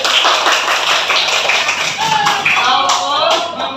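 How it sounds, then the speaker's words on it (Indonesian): Students in a classroom clap together, a dense burst of applause at close range with a bright, busy texture, while a voice speaks faintly near the end. "Kasih tepuk tangan dulu buat saya."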